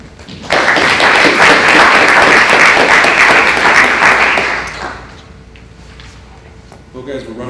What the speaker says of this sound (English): let's give one more round of applause to the panel